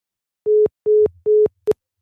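A telephone dial tone after the other caller hangs up: three steady beeps of equal length, evenly spaced, then a fourth short clipped beep, clear and close with no talk.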